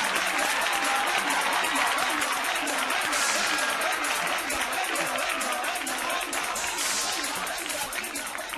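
Studio audience on a Spanish TV variety show applauding loudly after a performance, a thick sustained burst of clapping that fades slightly toward the end.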